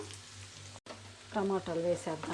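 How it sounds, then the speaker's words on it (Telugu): Ginger garlic paste sizzles in a pan for a tomato egg dish, a soft steady frying hiss heard close, with a voice talking over it partway through. "కొద్దిగా ముందుగా బాగా ఫ్రై చేసుకుందాము"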